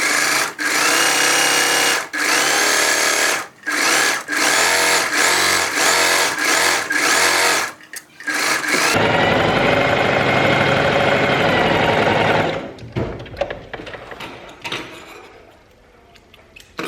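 A sewing machine runs a long basting stitch across the top of a midi skirt seam, loud steady whirring bursts with short pauses between them, then a smoother sustained run that fades into quieter handling noise.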